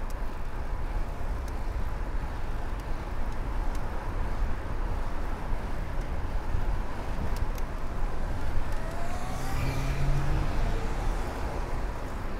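Cars pass on a narrow rural road in Japan beneath steady wind and rolling road noise, a continuous low rumble with faint passing engine tones rising and falling, heard from a bicycle.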